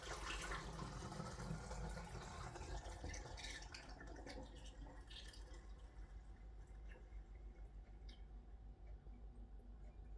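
Water runs into a water bottle as it is filled, a faint, busy trickling and splashing that starts fuller and gradually thins and quiets over several seconds.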